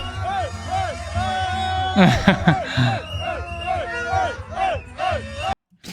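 A rowdy crowd of Swedish graduates celebrating, with loud chanting, whooping and bellowed cheers in rhythmic bursts, a dense close babble of voices throughout before cutting to silence at the end.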